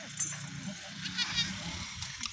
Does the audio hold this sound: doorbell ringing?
no